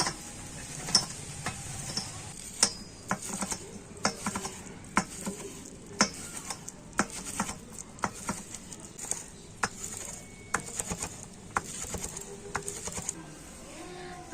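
Palm fruit pulp is pressed through a strainer onto a plate, giving a soft, continuous wet scraping with frequent small sharp clicks and taps close by, quiet and irregular in rhythm.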